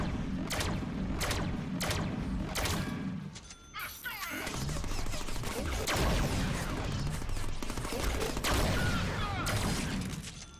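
Rapid pistol fire from the Deadpool video game, with bursts of shots, crashing impacts and other game effects packed densely through the clip. After a brief dip the firing resumes, loud and continuous.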